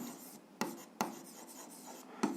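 A pen scratches across paper while working through an algebra exercise, a soft continuous scribble in a quiet room, broken by a few sharper taps and strokes near and close.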